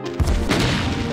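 An explosion in the Doom mod Eviternity, a sudden low boom followed by a rumbling, crackling tail that stays loud over a continuous game soundscape.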